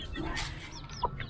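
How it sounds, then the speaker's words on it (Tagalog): A young chick of free-range jungle fowl in a backyard gives one or two faint, thin peeps over low background noise, very brief. "Ito yung sisiw natin dito mga idol."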